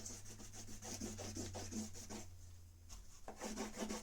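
A brown crayon is rubbed side to side across paper in quick, even back-and-forth strokes, a soft, close scratchy rasp that breaks off briefly before starting again.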